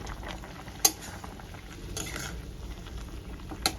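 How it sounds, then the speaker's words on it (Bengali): Curry gravy bubbles steadily in a pan as fried eggplant is added for a vegetarian dish with Gobindobhog rice. A soft patter of boiling runs throughout, broken by two sharp utensil clinks against the pot. "ঝোলটা আমার ফুটেছে, এবার আমি ভেজে রাখা বেগুনটা দিয়ে দিই, দিয়ে ভালো করে ফোটাবো।"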